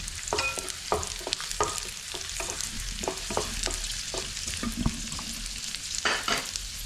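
Semiya vermicelli roasts in a pan for semiya kesari, an Indian sweet, with steady frying crackle under repeated scraping stir strokes and occasional sharper clinks, and no talking.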